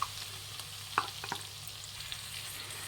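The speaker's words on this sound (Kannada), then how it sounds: "ಆಪಲ್ ಹಾಕ್ತಾಯಿದ್ದೀನಿ. ಇದು ತುಪ್ಪದಲ್ಲಿ ಅಥವಾ ಬೆಣ್ಣೆಲಿ ಯಾವುದ್ರಲ್ಲಾದರೂ ಹುರಿದ್ರೂ ತುಂಬಾ ಚೆನ್ನಾಗಿರುತ್ತೆ." Grated apple frying in ghee or butter in a pan, a soft steady sizzle with a few light clicks of stirring, close and fairly quiet, no voices.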